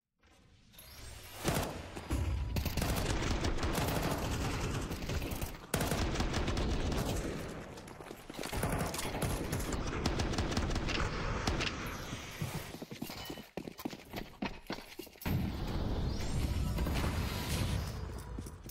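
Rapid bursts of gunfire in Counter-Strike on the Overpass map during a pro match, with repeated rifle shots and sprays, clattering impacts and footsteps, sustained and loud throughout with brief pauses.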